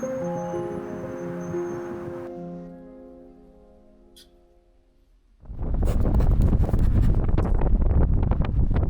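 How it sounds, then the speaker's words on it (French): Strong wind on a kayak trip roars and buffets the microphone in loud, broadband gusts, following a quieter stretch with soft tonal sounds. "je crois que c'est le jour avec le plus de vent que j'ai fait"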